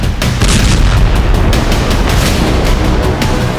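A loud, continuous roar of blasts and rumbling with sharp bursts throughout, dense and close like a large explosion.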